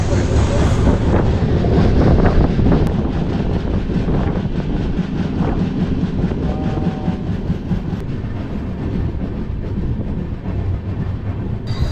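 Steady low rumble and rattling of a moving Chennai to Coimbatore train, heard from aboard near Ambur, continuous and loud throughout, with wind buffeting and a faint squeal partway through.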